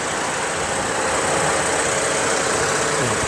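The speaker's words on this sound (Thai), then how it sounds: "ฟังเสียงเครื่องยนต์ เครื่อง VTEC นะครับเนี่ยเห็นไหม" A Honda City 1.5 VTEC car engine idles steadily at close range, a continuous even hum with a hissy top and no talking.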